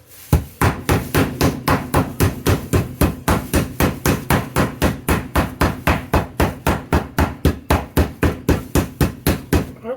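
Repeated loud mallet blows flattening pork loin chops in a home kitchen, roughly thirty fast, even thumps in a relentless rhythm, close and alone with no talking.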